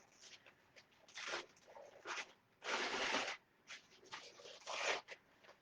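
Thin Dollar Tree beaded garland being pulled apart, soft scratchy rustles and brief tearing bursts in irregular spurts, close and quiet with pauses between.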